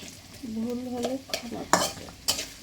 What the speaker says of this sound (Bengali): পেঁয়াজ দিল, মরিচ দিল, তেল দিল।